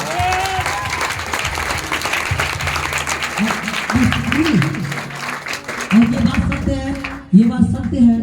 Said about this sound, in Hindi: टोटल स्टूडेंट मेरे साथ एक बार तालियों से इनकी स्वागत कीजिए